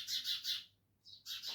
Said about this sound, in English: Oh, the birds.